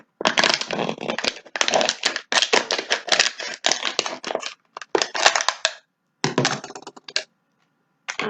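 Scissors cut the bottom off a plastic bottle in a biology demonstration, a loud, close series of crunching, crackling snips in bursts with short pauses, no talk.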